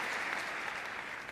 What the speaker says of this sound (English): You can clap for Queens.